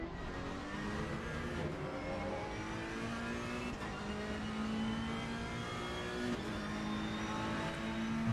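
Race car engine from a sim racing video game at Snetterton, a steady loud drone with rising and falling pitch as the car revs through gears, continuous throughout with no talk.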